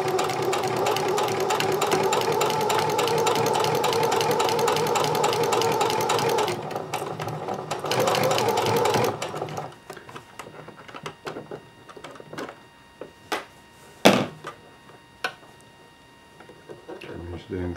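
Sewing machine stitching fabric for a pair of shorts, a loud close rhythmic whirring run for several seconds, then stopping into quieter handling clicks and taps.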